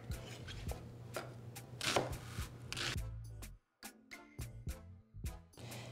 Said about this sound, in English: So here, I'm just going to cut up this onion